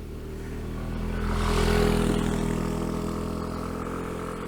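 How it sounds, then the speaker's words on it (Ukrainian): A motorcycle carrying two young women passes on a tree-lined road: a steady engine drone swells as it draws near, peaks, then fades gradually as it moves away, heard alone without talk. "Дівчата на мотоциклі."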